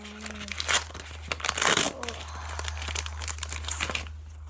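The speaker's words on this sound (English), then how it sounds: "now we're going to be opening two Evolutions pack" Foil wrappers of Pokemon Evolutions booster packs crinkle and tear in close, repeated bursts, with a louder rip in the middle, over a low steady hum.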